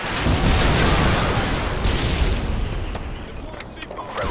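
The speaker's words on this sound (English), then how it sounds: "Friendly predator missile incoming." A predator missile explosion in Call of Duty: Modern Warfare 2 on the Highrise map during team deathmatch: a loud, sustained booming blast with rumbling debris that slowly fades, with game voice chatter around it.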